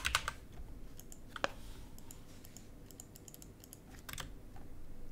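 Keys clatter on a computer keyboard as an amount is typed into a crypto token swap app, a quick burst of clicks at the start, a lone keystroke, then a cluster near the end, close and fairly quiet with no talking.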